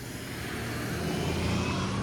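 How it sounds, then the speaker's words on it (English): A city bus on route 38 Highland Creek passes along a snowy Ellesmere Road in Scarborough, Toronto, a steady broad engine and tire rumble that grows slightly louder as it nears. "There's the 38 Highland Creek bus."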